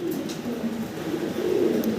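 Fancy pigeons coo in a steady, low rolling murmur, close and continuous, with faint chirps above and no talking.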